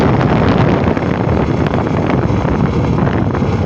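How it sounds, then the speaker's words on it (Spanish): Italika DM 250 motorcycle engine with a faulty connecting rod, running as a dense, steady, loud mechanical roar without any pauses. "el ruido que hace la moto de la parte de las bielas"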